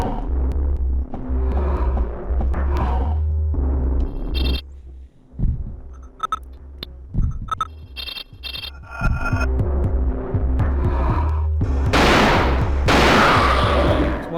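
Pistol shots and other gunfire from the Dreamcast survival-horror game Alone in the Dark: The New Nightmare, loud and sharp bursts over a rumbling game soundtrack, with a dense stretch of noisy blasts toward the end and no voices.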